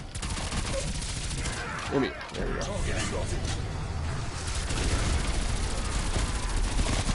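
Rapid gunfire from the video game Call of Duty: Cold War Zombies, a dense, loud, continuous barrage of shots filling the whole clip, with a player talking over it.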